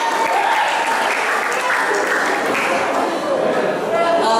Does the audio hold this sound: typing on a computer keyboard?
no